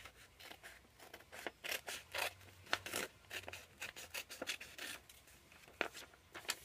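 Scissors snip paper for a homemade photo album, giving a quiet, close series of short crisp cuts in an irregular rhythm, some in quick bursts, with no one speaking.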